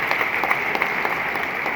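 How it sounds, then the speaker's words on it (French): An audience applauding, heard as a brief, even patter of many hands clapping at moderate volume, steady with no voices over it. "Je vous prie d'applaudir très très fort pour ça."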